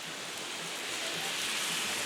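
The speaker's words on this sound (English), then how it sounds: "It's raining a little bit heavy" Steady rain falling a little heavily, a soft continuous hiss of drops on surfaces with no voices, fairly quiet and even throughout.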